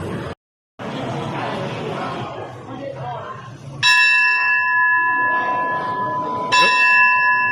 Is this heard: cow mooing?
no